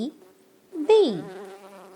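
A bee buzzing in a children's alphabet animal sound, a steady droning hum that rises with a sudden swell and wavering pitch before settling, short and up front.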